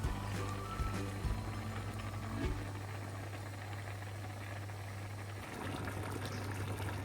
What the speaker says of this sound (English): my water has come up to boiling